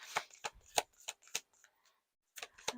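A deck of tarot cards is shuffled by hand up close, with quiet crisp riffles and flicks arriving in short bursts, then a brief pause before a last few snaps.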